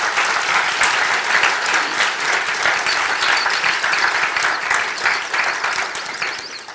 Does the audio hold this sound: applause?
yes